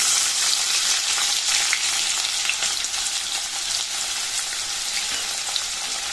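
Finely chopped onions frying in hot oil with chana dal, mustard and cumin seeds for radish greens curry: steady loud hissing sizzle, close and continuous, with faint stirring crackles.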